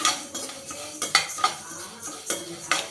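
Black urad dal is dry-roasted in a pan and stirred with a metal spoon. Repeated close scrapes and clinks sound against a faint sizzle, with no speech.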